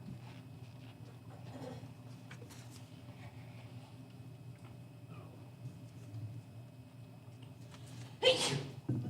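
A single sneeze bursts out sharply near the end of a quiet municipal board of aldermen meeting, heard over a steady room hum and faint background shuffling.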